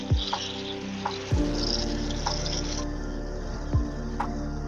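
Tomato, onion and spices fry steadily in hot oil for an egg curry, a continuous close sizzle with occasional louder pops and crackles, no talk.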